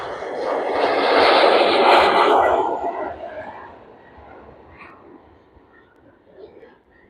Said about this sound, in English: And there goes the KLM off to Amsterdam this afternoon.